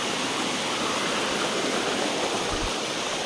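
Ashokjhar waterfall in Jajpur pours down in a continuous broadband rush of falling water, close and steady with no breaks, and no voices on top of it.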